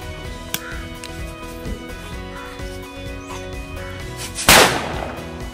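A single loud, sharp paper firecracker blast bursts out near the end, following several seconds of low background hum with a few faint pops.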